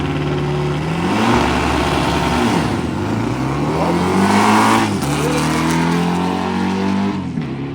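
A VW drag car at the drag strip revs hard and launches, its engine rising and falling in pitch through several loud, close gear-driven surges.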